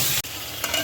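Chicken curry being stirred in a pan, a steady scraping and sizzling texture with a brief gap near the start, close and alone with no talking.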